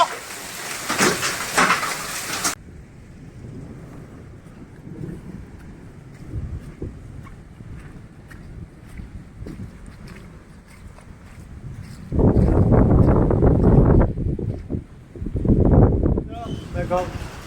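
Gusty Kalbaisakhi storm wind in Talcher roars and rumbles throughout, swelling into louder blustery bursts near the end, with a brief hiss of rain at the start.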